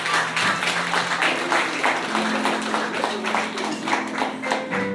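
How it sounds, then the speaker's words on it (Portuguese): A church congregation claps in praise to the Lord during a service, a continuous dense patter of hands at moderate loudness, with sustained voices or singing tones underneath. "Vamos dar uma salva de palmas para o Senhor."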